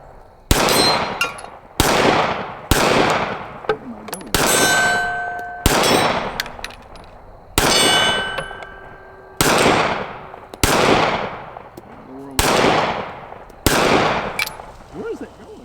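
A Smith & Wesson Shield Plus 9mm pistol fires about ten sharp, loud shots at a slow, uneven pace, and each one is followed by the ringing clang of a steel cowboy target.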